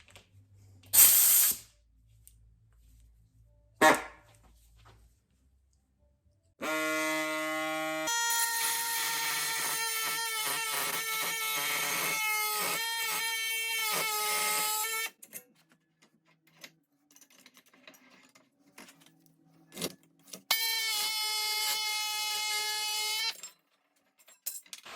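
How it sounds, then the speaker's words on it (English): A body saw trims an 18 gauge sheet metal patch during rust repair on a 1970 Chevelle door panel. It makes two sustained, harsh buzzing cuts with a dense reciprocating rasp, separated by brief taps and quiet handling noise. "I'm gonna use a body saw to trim this down a little bit."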